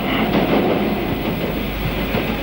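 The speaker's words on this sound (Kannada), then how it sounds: "ಟ್ರೈನ್ ಬಂತು." A train pulls into a station with a steady, loud rumble of wheels and carriages, a continuous heavy roar close by with no speech over it.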